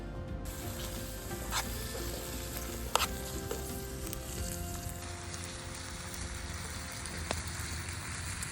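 Food sizzles and fries continuously in a hot pan over a campfire at a wet motorcycle campsite after a storm, a faint steady crackle with a few sharp clicks and knocks.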